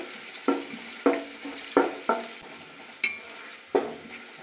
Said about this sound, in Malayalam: കുറച്ച് സവാള കട്ട് ചെയ്തതുണ്ട്, അതും കൂടെ ചേർത്ത് കൊടുക്കാം. നന്നായിട്ട് വഴറ്റിയെടുക്കാം.